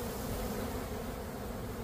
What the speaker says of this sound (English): So it looks like we got bees flying into both sides at 7 p.m.